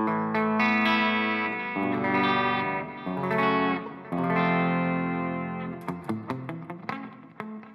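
An electric guitar by LT Custom Guitars is played through its neck pickup with reverb and delay, sustained ringing chords and notes washing into echoes, then a run of quicker picked notes toward the end.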